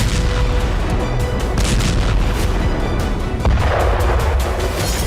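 Heavy blast and rumbling explosion as a Zircon hypersonic cruise missile strikes its target, a loud continuous roar with booming impacts and a sharper burst near the end.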